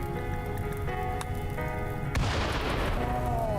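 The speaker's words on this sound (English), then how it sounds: "Explosion." A single explosion in the video game RimWorld bursts out sharply partway through, following a stretch of steady game ambience and leaving a broad rumbling tail with no talk over it.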